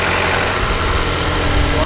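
A Nissan R35 GT-R engine with 150,000 miles idles loudly and steadily at close range, a deep continuous rumble with a faint vibrating hum throughout.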